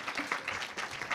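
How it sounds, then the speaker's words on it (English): An audience at a church birthday celebration claps in a brief, steady burst of applause, moderately distant and even. "Please give them a big round of applause."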